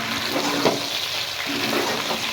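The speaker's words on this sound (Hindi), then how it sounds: "ये चिकन की रोस्ट हो रहा है, और एक ही पैन में प्याज, चिकन और लहसुन ये हमने ब्राउन करना है" Chicken, onion and garlic brown together in a single pan, with a steady dense sizzle and soft stirring scrapes, close and continuous, with no voices.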